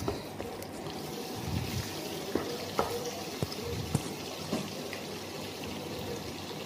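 Pepper and ginger garlic paste frying in the oil left from frying prawns, a steady soft sizzle with occasional sharp pops and spoon clinks against the pan.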